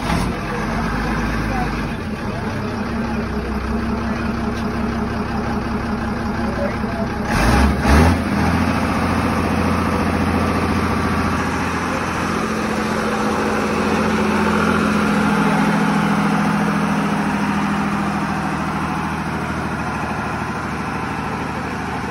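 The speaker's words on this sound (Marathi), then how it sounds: "आत्ता आपण जी ऐकली ती गाडीची फायरिंग, नवीन इंजिनची फायरिंग एकदम स्मूथ" The freshly rebuilt engine of a 1994 car runs at a smooth, steady idle, a low continuous rumble close by, with a short burst of louder revving midway and someone talking over it.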